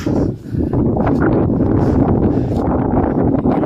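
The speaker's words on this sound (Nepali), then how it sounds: "सैलिङ कस्तो हावा चले आमा डाँडामा" Strong wind buffets the microphone on Sailung hill in Dolakha, Nepal, a loud continuous low roar with gusty surges and no one speaking.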